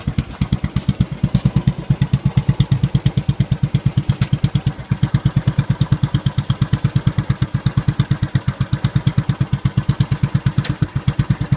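Royal Enfield motorcycle engine idling close by at a steady thump, a fast even chain of loud low pulses with light mechanical clatter, running alone throughout.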